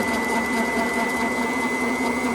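Mini lathe fitted with a custom knurling tool turning at its slowest speed, a steady close mechanical whine and hum holding constant with no break.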